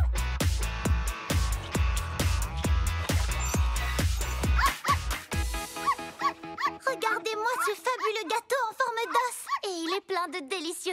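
Puppies in little party hats bark and whimper at a puppy party, with sharp yips at first over a steady beat, then high thin whines and whimpers that rise and fall near by.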